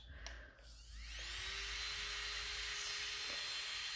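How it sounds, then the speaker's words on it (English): A small high-speed electric nail drill (e-file) whirs up after a brief click and holds a steady, whining pitch with a faint hiss, fairly quiet and close. "that's the Sayang, the favorite e-file which I'm using in salon, and listen to that"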